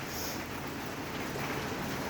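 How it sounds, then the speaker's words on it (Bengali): Rain falls steadily outside, a soft continuous hiss without any talk, the heavy downpour having eased somewhat under a dense cloud cover. "বৃষ্টি বাইরে বৃষ্টি পড়ছে, পড়ুক"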